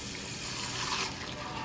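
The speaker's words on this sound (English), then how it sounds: "Fill it up with some water." Tap water runs at a kitchen sink into a blender jar being rinsed out after making salsa, a steady close rushing stream with no one speaking.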